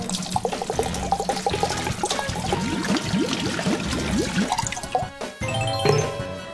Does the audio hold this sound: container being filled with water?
yes